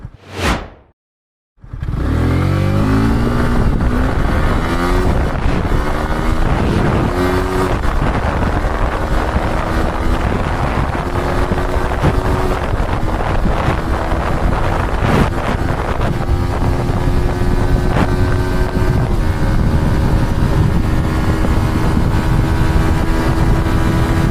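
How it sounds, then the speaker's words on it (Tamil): A Yamaha R15 V4 motorcycle ridden hard with its VVA engaged, engine note rising through the gears under heavy, constant wind rush, loud and continuous after a brief opening burst. "இப்போ VVAல மட்டும் ஓட்டி காட்டுவேன் இந்த வண்டி எப்படி இருக்குன்னு"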